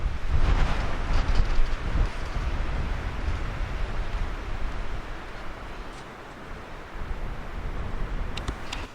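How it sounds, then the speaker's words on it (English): Strong wind roars steadily across a rocky mountain overlook at Chimney Rocks in Michaux State Forest, Pennsylvania, a loud, continuous buffeting rush with gusty surges and microphone wind noise throughout. "That wind is insane up there."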